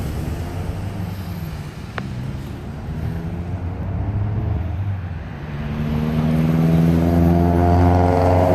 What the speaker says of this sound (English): Plus I'm gonna wait on this traffic also.